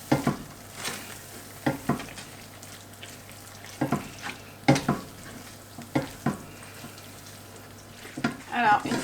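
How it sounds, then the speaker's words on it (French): Cheddar sauce with ham and pepper being stirred in a pan, a quiet sizzle underneath with repeated scraping and clinking of a utensil against the pan, irregular strokes close by. "Et on mélange bien entre deux pour bien pas que ça attache au fond."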